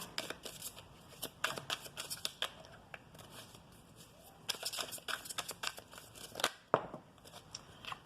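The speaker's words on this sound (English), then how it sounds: "All right, Scorpio, let's get some oracle cards here." Oracle cards shuffled by hand in a series of crisp riffling and sliding bursts of varying length, fairly close and quiet, with faint background noise and no talking.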